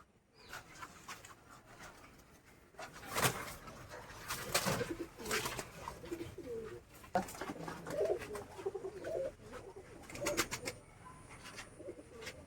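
Pigeons in a home loft give soft, repeated low coos and rustles, with scattered sharp handling noises and wing flutters close by.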